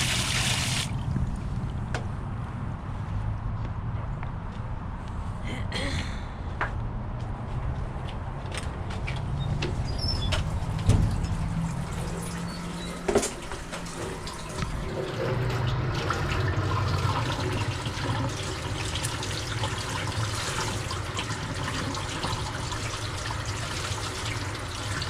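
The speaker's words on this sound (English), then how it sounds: "Getting all that dye washed out of it." Water runs steadily while a tie-dyed pillow case is rinsed to wash out blue and green dye, a continuous close rushing with occasional splashes and knocks.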